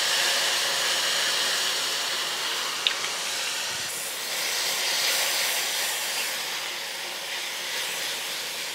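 White wine sizzling and hissing as it hits a hot skillet of cooked-down vegetables, a steady broadband hiss that holds on without a break, close and fairly loud, with a brief faint clink near the start.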